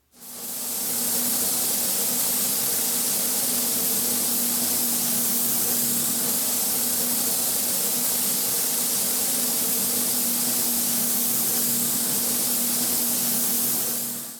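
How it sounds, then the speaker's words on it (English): A spray gun applies custom paint inside a paint booth, giving one steady, loud hiss that carries on unbroken for the whole stretch with a constant low hum underneath. "So now we've put the paint on"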